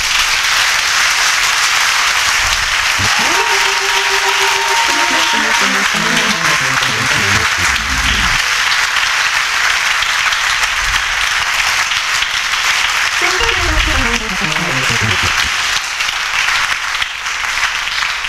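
A church congregation at a worship service breaks into applause, dense and sustained clapping from a large crowd. A sustained musical tone and voices sound underneath.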